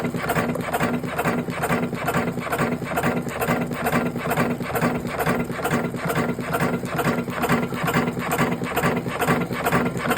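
An electric cigarette rolling machine runs with a steady, rapid mechanical clatter, evenly pulsed and loud, continuing without pause.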